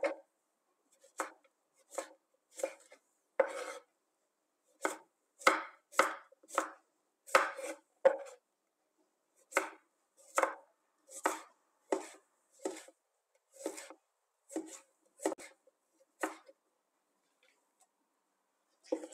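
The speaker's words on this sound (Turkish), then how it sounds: "Salatalıklarımızı da ince olarak doğruyorum." A knife chops cucumbers thinly for cacık on a board, about twenty crisp, evenly spaced strikes in a steady rhythm, close and clear with short pauses between and no talking.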